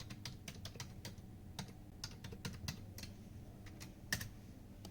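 Fingers type on a computer keyboard at a desk, a run of quick soft clicks in an irregular rhythm with one sharper keystroke near the end, faint and close over a quiet room.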